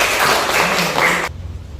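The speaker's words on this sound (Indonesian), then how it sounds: "Tepuk tangan semuanya." A classroom applauds after a group presentation, a dense burst of clapping that stops abruptly partway through, leaving a quiet room.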